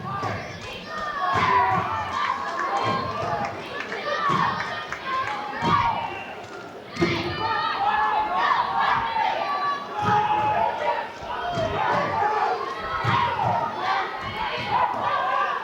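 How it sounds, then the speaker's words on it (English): A loud crowd fills a high school gym during a wrestling match between the South Kitsap Wolves and North Kitsap Vikings, sustained shouting and cheering with thuds from the mat and surges of excitement. "This gym is loud tonight."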